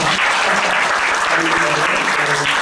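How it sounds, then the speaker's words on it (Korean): A church congregation applauds during a Sunday worship service, a dense, steady wash of many hands clapping that fills the whole stretch at close, loud level. "네, 박수 한번 해주세요"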